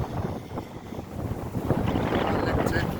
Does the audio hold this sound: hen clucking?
no